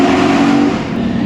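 A BMW M3 engine and exhaust produce a steady, close engine drone for just over a second, the tone easing slightly partway through.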